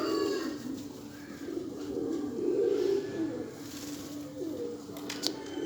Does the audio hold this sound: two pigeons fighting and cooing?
yes